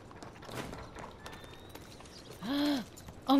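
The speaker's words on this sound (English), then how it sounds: "Now my horse comes to me." Horse in Red Dead Redemption 2 running up to its rider, a brief burst of hoof and tack noise with a loud whinny-like cry near the end, over faint game ambience.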